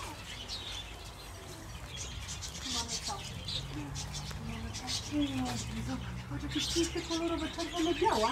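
Parrots in cages at a small zoo chirp and squawk in repeated short calls over steady background noise, mid-distance and moderately loud.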